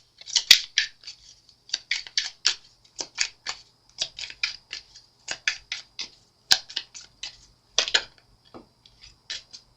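Tarot cards drawn from a deck and laid down in a quiet room, a rapid run of crisp paper flicks and snaps in irregular bursts, close and fairly loud, with no talking.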